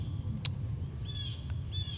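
Birds in rural Central Florida call softly over a low rumbling background: a sharp chirp, then a couple of thin sustained whistled notes, all fairly faint and distant.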